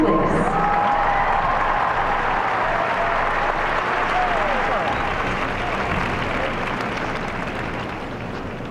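Large arena crowd at an ice dance world championship, with steady, dense applause and scattered cheering from a Canadian audience. The roar is loud and sustained throughout and tapers slightly toward the end.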